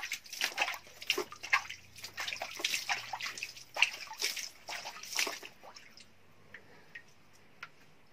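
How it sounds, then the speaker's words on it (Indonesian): Clear spring water flowing from a source near a stone cave, a close, irregular trickling and splashing that thins into sparse drips toward the end, with no talking. "sini ada sumber mata air mata airnya"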